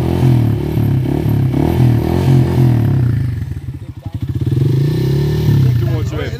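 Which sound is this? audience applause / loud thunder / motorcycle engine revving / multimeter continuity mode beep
motorcycle engine revving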